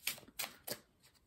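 A Symbolon card drawn from the deck, three quick soft papery swipes close by, fairly faint, with no talk.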